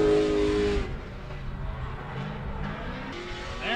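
A Subaru BRZ in a tandem drift competition, its loud engine roaring with tire noise as the car carries a lot of angle; the sound stays close and continuous, shifting pitch throughout.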